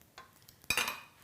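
A Griddler contact grill lid closes with a soft clack and a brief metallic rattle, preceded by faint handling taps, quiet and close.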